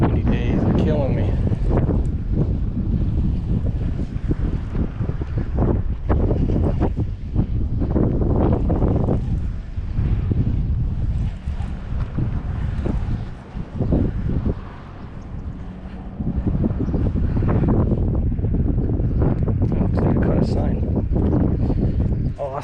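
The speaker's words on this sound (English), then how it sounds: "These windy days are killing me." Heavy wind buffets the microphone on a lake bank during bass fishing at Lake St Clair, a loud, constant low rumble with gusty surges that nearly never lets up.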